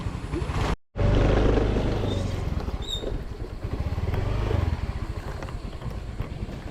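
A borrowed motor scooter engine idles and revs close by on a Romblon island road in the Philippines, a steady low putter rising and easing, with a brief dropout near the start.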